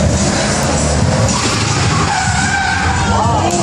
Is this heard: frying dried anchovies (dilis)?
no